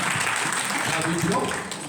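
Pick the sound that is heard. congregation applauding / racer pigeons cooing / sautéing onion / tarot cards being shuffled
congregation applauding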